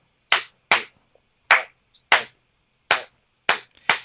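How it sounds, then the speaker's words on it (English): Crisp hand claps play a 3/2 rumba clave, the third stroke of the three-side pushed late by an eighth note, loud and close with brief quiet gaps between strokes. "Then there's 3/2 rumba clave, where the third beat is displaced by an 8th note"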